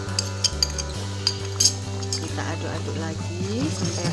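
A spoon stirs salt, sugar and powdered broth into boiling tuna curry (gulai ikan tongkol) in a pot, making sharp metallic clinks and scrapes at irregular intervals over a bubbling background, with someone talking throughout.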